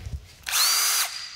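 A power drill bores into a shock absorber damper to drain its oil. One short, sharp whirring burst lasts about half a second, close and loud, after a few soft knocks.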